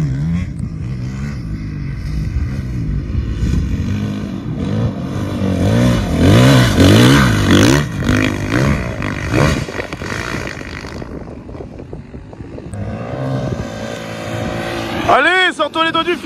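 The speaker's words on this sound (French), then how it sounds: "le premier passage que t'as fait, t'étais trop haut dans les tours, la moto ne tractait pas" A 450 motorcycle revs hard during a riding pass, its engine note climbing and falling in repeated surges with a sharp rising rev near the end, while people talk and call out over it.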